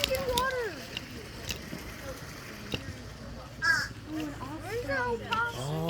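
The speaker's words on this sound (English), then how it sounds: "Those crows are trying to attack the birds." Crows caw in a Florida outdoor setting, a series of harsh rising and falling calls clustered at the start and again toward the end, moderately near, with people talking over them.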